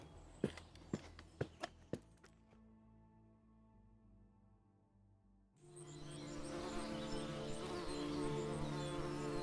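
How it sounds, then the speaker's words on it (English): A swarm of bees buzzes steadily in a graveyard, a dense continuous drone that swells in after a few sharp footstep-like knocks and a quiet pause, holding loud and close to the end. "That is a lot of bees."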